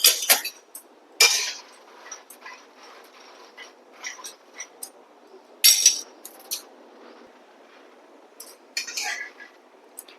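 Makhana (fox nuts) dry-roasting in a pan, with scattered light clinks and rattles of the puffed nuts and spatula against the metal arriving in uneven bursts, fairly quiet and close, with no talking.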